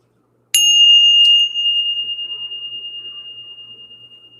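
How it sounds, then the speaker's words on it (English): A single bell is struck once, giving a sharp metallic ping followed by a long, clear ringing tone that slowly fades with a gentle pulsing shimmer. It sounds close and loud against an otherwise quiet background. "Let's ring the bell."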